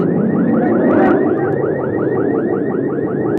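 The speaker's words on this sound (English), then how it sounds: "Burglar alarms were set off." Burglar alarms set off by an earthquake wail loudly in a rapid, repeating rising sweep, a continuous electronic siren pattern that dominates without any voices.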